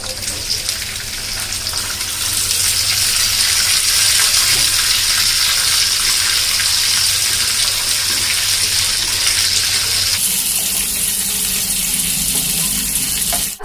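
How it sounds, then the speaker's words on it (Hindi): Lobia (chaulai) bean pods fry in hot oil in a pan, producing a loud, continuous sizzling hiss that shifts and settles slightly partway through. "अब आलू की तरह हम ये लोबिया को भी यानी कि चौलाई को भी फ्राई कर लेंगे।"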